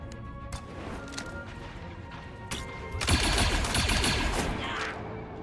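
Weapon discharges in the turn-based strategy game ZCom, a couple of sharp shots followed by a louder burst of gunfire and crashing impacts, with no voices over it.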